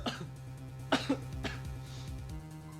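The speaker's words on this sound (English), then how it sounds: "I apologize, I keep coughing" A voice actor's coughs and throat clearing in the courtroom video game Ace Attorney: Contempt of Court, with two sharp coughs near the middle and a softer one after, over steady background music.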